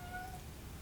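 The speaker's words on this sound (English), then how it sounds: "that's my cat" A pet cat gives a single brief, faint meow in the background of a quiet indoor room.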